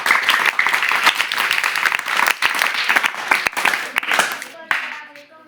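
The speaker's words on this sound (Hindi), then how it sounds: "जोरदार तालियों से खैर मकदम कीजिए।" Loud, sustained applause from an audience in a student studio, dense clapping that runs continuously and then tapers off near the end.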